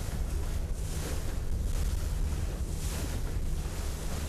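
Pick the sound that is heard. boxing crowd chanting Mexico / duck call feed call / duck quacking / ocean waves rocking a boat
ocean waves rocking a boat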